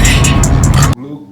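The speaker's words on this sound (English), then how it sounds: "I hear the noise coming, I think from the exhaust too as well" A Volkswagen MK4 Bora driving with its exhaust droning loudly and close by, with a pulsing engine note, cutting off abruptly after about a second into quiet cabin noise.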